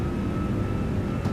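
The engines of an Airbus A340-600 in a flight simulator run at full power, a steady, loud, broadband jet roar with a faint tonal whine and no talking.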